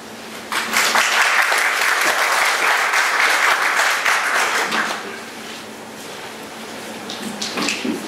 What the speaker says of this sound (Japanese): 皆様拍手を持ってお迎えくださいませ